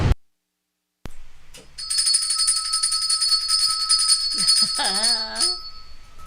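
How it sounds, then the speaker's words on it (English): A telephone-style bell rings continuously for several seconds to open a live morning radio show, bright and loud, then a voice briefly speaks over its end. "Extended bell because I don't know what mic I'm on"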